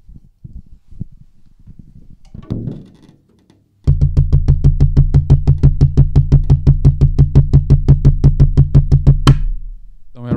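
Drum strokes from the left hand using the push-pull technique, a fast, even stream of crisp taps at steady volume for about six seconds after a quieter, scattered opening.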